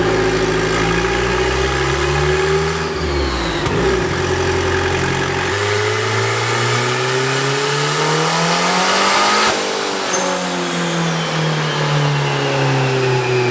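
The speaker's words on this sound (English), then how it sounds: "Car sounds really good, VTEC's engaging." A turbocharged LS-swapped Honda with VTEC revs hard on a dyno, loud and close, the pitch sweeping up, dropping and climbing again through sustained wide-open pulls with no talking.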